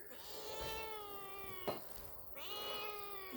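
A cat meows in long, drawn-out cries, two separate calls close by with a short pause between them.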